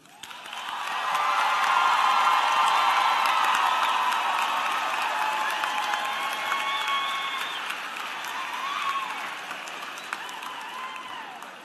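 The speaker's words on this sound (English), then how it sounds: "Please join me in applauding them." A large audience at a university commencement ceremony claps steadily, swelling quickly and then sustaining a dense applause that slowly fades, with a few scattered whoops.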